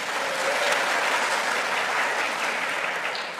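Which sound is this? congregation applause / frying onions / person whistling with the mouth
congregation applause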